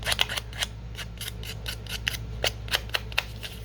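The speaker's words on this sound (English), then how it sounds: "I'll use my scissors to do that." Scissors snip repeatedly at paper edges while decorating handmade journal card backgrounds, a dozen or so crisp, close cuts in an uneven rhythm over a low steady hum.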